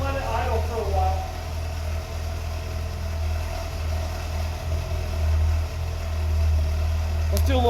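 A restored 1982 BMW 320i engine idles steadily with a low, constant hum close by, with a brief metallic click near the end.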